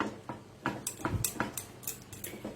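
A powdered-milk sweet mixture is stirred in a pan with the flame off, giving a quick series of light ticks and scrapes as the utensil strikes the pan, close and fairly quiet.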